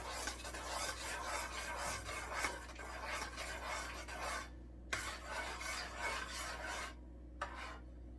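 Condensed milk being stirred in a pan while it heats gives continuous scraping and rasping strokes at low level, broken by two brief pauses.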